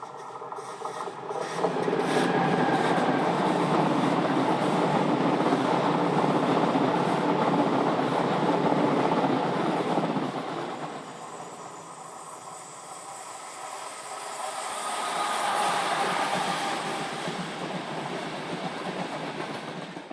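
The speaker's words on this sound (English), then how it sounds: "an empty stock movement sees no less than 3 Class 655s in the train consist" A train hauled by three Class 655 locomotives on an empty stock movement rumbles past with a broad, loud roar and hiss, easing off midway before swelling again.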